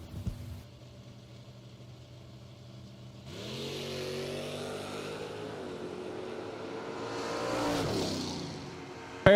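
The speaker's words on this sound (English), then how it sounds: "Edmund down 647 in his Camaro, and Holston in the other good looking 67 Chevelle" A Camaro and a 1967 Chevelle launch side by side in a drag race, a faint idle rumble swelling into roaring, rising engine revs that carry on and peak near the end, heard from a distance.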